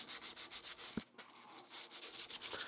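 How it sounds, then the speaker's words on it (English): Sandpaper rubs back and forth along a steel knife blade at a 45-degree angle in quick, even hand strokes, a dry close-up scratching with one brief pause near the middle. "By changing the angle of the sanding, I'm doing it on a 45 right now"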